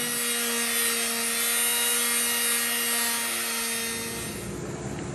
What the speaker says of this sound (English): So I've got the disc sander set up.